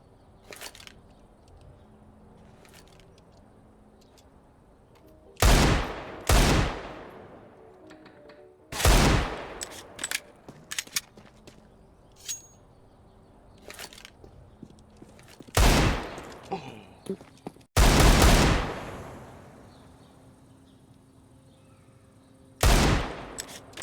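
AK rifle gunfire in the Counter-Strike video game, several loud bursts of rapid automatic shots spaced a few seconds apart, with quieter distant shots and game clatter between them.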